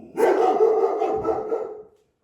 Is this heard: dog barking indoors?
yes